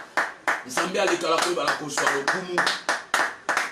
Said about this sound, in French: Est-ce que tu peux acclamer là où tu es, bien-aimé?